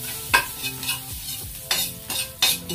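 Garlic browns in a hot pan with a light sizzle under repeated sharp scrapes and stirring strokes, about five distinct utensil hits against the pan in under three seconds, close and without any voices.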